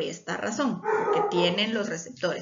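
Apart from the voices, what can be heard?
dogs barking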